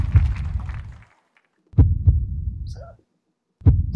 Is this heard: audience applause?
no